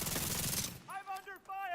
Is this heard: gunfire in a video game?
yes